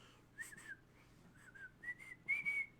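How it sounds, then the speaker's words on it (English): A person whistles a short, wavering melody in several bursts, a cheerful tune, fairly faint over a low steady background hum. "I wish I was better at whistling."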